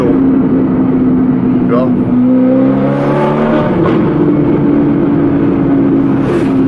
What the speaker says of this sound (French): tu entends les retours à l'échappement en continu